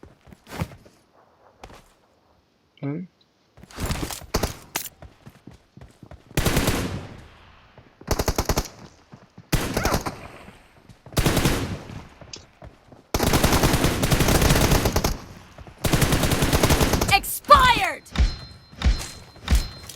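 Bursts of automatic gunfire from PUBG Mobile played on an iPhone SE 2020, with repeated loud rapid volleys and single thuds spread across the stretch, some long sustained sprays, and a brief faint voice early on.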